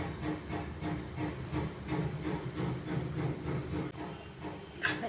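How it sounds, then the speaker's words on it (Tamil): Sago payasam sweetened with jaggery boils in a pot, giving a steady, fairly quiet hiss and bubbling throughout, with a small clink near the end. "வெல்லம் இது மாதிரி தட்டி போட்டுட்டோம்னா அது நல்லா இப்படி கொதித்து வரும்."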